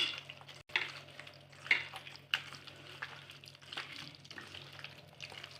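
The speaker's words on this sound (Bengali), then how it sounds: "মাখছি তাহলে।" Raw chicken is mixed by hand with spices and raw oil in a bowl, making soft, close, wet squelches and slaps that come in irregular bursts over quiet background, with no talking.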